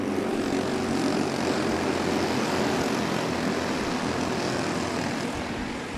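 Four-stroke go-karts racing around a track at Adams Motorsports Park, a dense, steady engine drone that stays loud throughout the clip, with no voices heard.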